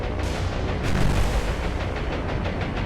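Aircraft hits explode on a merchant ship in the naval combat game War on the Sea, a dense, continuous rumble of booms and blasts throughout with no clear pauses.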